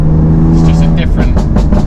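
A BMW M2 Competition on new Sport Contact 7 tyres accelerates hard on a dry road, its engine note rising loud and close from inside the cabin while someone talks over it.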